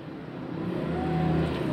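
A manual car revs up as the gas pedal is pressed during a driving lesson on a public road, the engine hum rising and swelling steadily over a short stretch with no talk.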